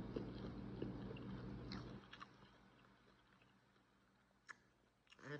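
Crunchy air-fried fries are chewed close to the mic, a run of wet, crisp bites and mouth sounds that fades into quieter, sparse chewing with a few sharp crunches near the end.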